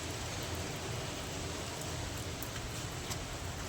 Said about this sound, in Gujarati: મસ્ત મજાનો વરસાદ આવે છે.